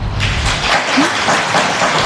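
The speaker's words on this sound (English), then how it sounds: "Governor Gavin Newsom receiving applause today as he officially presented his updated state budget" Governor Gavin Newsom receives dense, steady applause from an audience as he presents his updated state budget. The clapping is loud and even, with a few faint chuckles.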